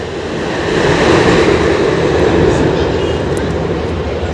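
A train passes on the main line near the Khirai flower fields in West Bengal, a loud, close, steady rumble and roar that swells and then holds.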